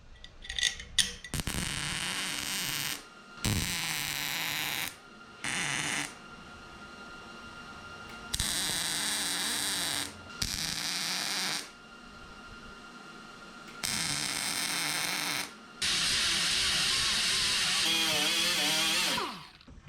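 A MIG welder buzzes and crackles in several long bursts separated by short pauses while bolts are welded onto a 1977 Datsun 620 pickup. The sound is steady, fairly close and heard alone.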